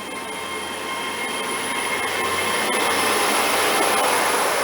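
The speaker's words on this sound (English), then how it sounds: "departing now will be the 12:39 Great Western Railway service from from Penzance to London" A Great Western Railway train departs Liskeard station on the Cornish main line, a loud steady roar of engines and rolling wheels with a high whine that grows slightly as it pulls away.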